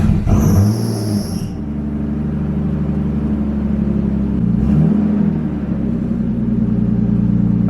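A straight-piped R33 Nissan Skyline engine runs loud and close, revving and settling into a deep steady rumble, with a high whine early on and a second brief rev swell partway through.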